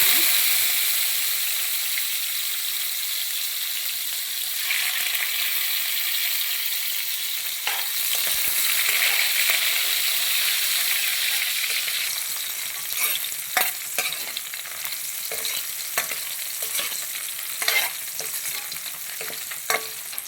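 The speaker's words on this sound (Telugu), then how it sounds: "ఈ వాష్ చేసుకున్న ఫిష్ని అయితే ఆయిల్లో వేసి అయితే వేయించుకోవాలి" Washed dry fish frying in hot oil in a pan, for a Telugu brinjal dry fish curry: a steady, close sizzle and crackle lasts throughout, with sharper pops and stirring clicks toward the end.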